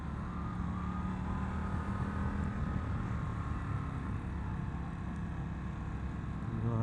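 Indian FTR R Carbon motorcycle pulling hard in second gear, a steady, loud engine roar with continuous wind rush that holds level throughout.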